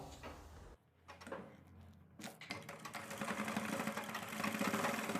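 A sewing machine stitches elastic onto fabric for umbrella palazzo pants, running in a steady, fast mechanical whir that builds after a few brief starts and stops, close and fairly loud.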